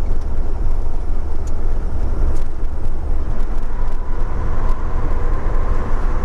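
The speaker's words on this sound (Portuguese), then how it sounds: "Troquei os pneus do caminhão semana retrasada. Olha o barulho, tá vendo?" Road noise from a truck rolling on new tyres, heard as a loud, constant low rumble and broadband tyre roar from inside the cab, steady throughout with no speech.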